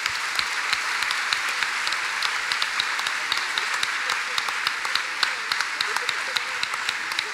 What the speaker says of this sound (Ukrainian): дайте аплодисменти йому